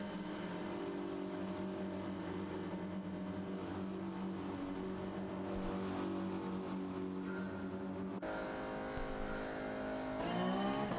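A race car engine droning steadily at the Red Bull Ring in Gran Turismo 7, a sustained revving tone that holds fairly level, then shifts sharply with a rising rev near the end.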